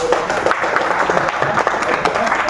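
An audience at a magic show in a collectorate meeting hall claps in dense, continuous applause, close and fairly loud, with voices mixed into the clapping.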